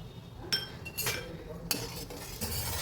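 A spoon clinks and scrapes against a bowl while stirring a dabeli spice mixture with roasted cumin powder and salt, giving a few sharp metallic taps over a quiet background.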